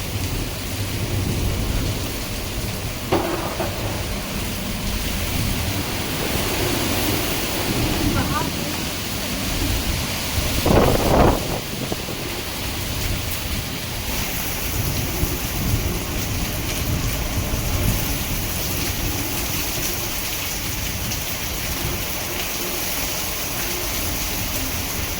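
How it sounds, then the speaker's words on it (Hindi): Heavy rain pounding steadily in the Uttarakhand mountains with wind, a dense continuous roar, and a low rumble of thunder rolling through midway, while someone talks over the storm. "ये देख सकते भयंकर बारिश चल रही है, तो हवाएं भी चल रही है।"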